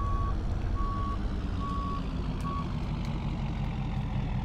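A service truck in Farming Simulator 19 reverses to park, its backup alarm sounding four evenly spaced beeps over a steady low engine rumble.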